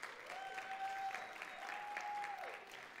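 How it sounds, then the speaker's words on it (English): Audience at a community food and agriculture event in Austin applauding, a soft, distant wash of clapping lasting a few seconds with a faint tone running through it. "let's give them a round of applause."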